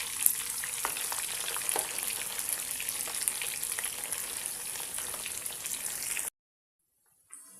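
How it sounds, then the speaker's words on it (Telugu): Prawns frying in oil while stirred, a steady close sizzle with light scraping and spatula taps, cutting to near silence at the end. "వీటిని కలబెట్టుకుంటూ గోల్డ్ కలర్ వచ్చేంత వరకు ఫ్రై చేసుకోండి."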